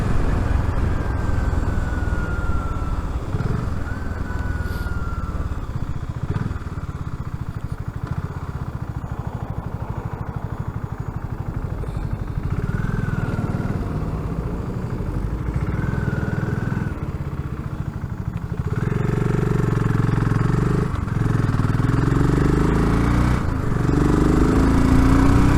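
A BSA Goldstar 650 motorcycle engine runs steadily while riding on Cheshire roads, a continuous low rumble with wind noise and rising revs as the bike accelerates toward the end.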